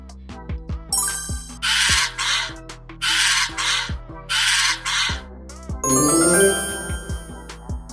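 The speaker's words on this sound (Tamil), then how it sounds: "காகம்," A crow caws loudly three times in harsh, raspy bursts spaced about a second apart, with a light chiming backdrop and a shimmering flourish at the close, in a children's animal-sounds segment.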